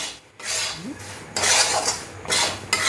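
Semolina mixture for sweet barfi being stirred in a pan, a close, loud scraping swish in repeated strokes with brief pauses between them, no talk.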